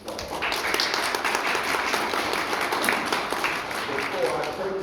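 Sustained applause from an audience at a Jefferson County Democrats meeting, a steady dense wash of clapping lasting the full stretch with no pause and no voices breaking through.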